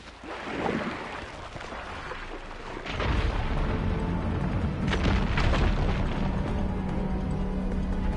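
Fire gleam explosion blasting away rubble in Horizon Forbidden West, a deep boom that erupts about three seconds in and rolls into a sustained, loud rumble with crackling debris for several seconds.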